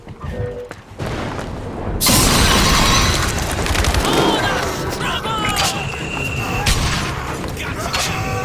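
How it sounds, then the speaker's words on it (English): Flak cannon firing in Bioshock Infinite, loud booming bursts and crackling blasts amid game effects, with voices talking over the barrage. "Flak cannon, Booker!"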